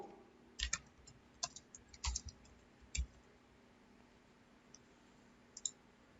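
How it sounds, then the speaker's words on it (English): A handful of quiet, sparse keystrokes tap on a computer keyboard as an address is entered, the irregular clicks separated by pauses and sitting over a low, faint room hum. "Type in that address."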